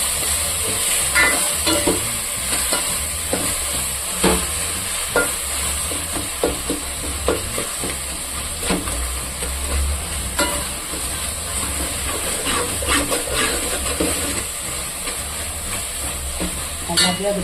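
Tomatoes, chili powder, mint, coriander and green chilies sizzle in a pan for parotta salna, a steady crackling fry with scattered sharp stirring clicks and scrapes throughout.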